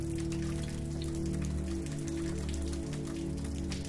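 Steady rain falls around a village café, a constant close patter of drops on surfaces with a faint tonal hum underneath, unbroken throughout.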